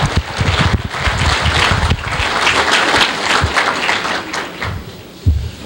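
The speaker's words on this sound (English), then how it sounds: "Let's have a round of applause for that beautiful" A room full of people claps at a retirement celebration for Guy Valvano, producing a broad, dense wash of applause with a few louder thumps near the microphone.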